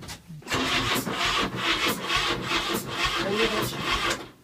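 A Porsche 968 engine cranks repeatedly without catching, a loud, steady churning with rhythmic pulses from the starter, close to the microphone.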